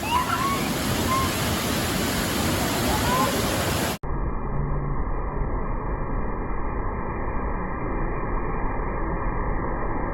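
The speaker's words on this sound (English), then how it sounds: "we are gonna show you the sound of the water here" Loud, continuous rushing water under a bridge at Gazuldoba, a dense roar that cuts abruptly partway through and then carries on as a steadier, duller wash.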